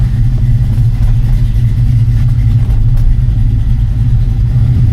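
A 1967 Chevrolet C10 pickup with a swapped LS 5.3 V8 and four-speed rumbles loud and close, a deep, steady engine throb with slight rises in pitch, no voices over it.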